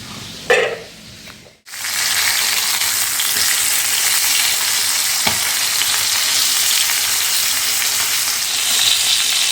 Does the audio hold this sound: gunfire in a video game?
no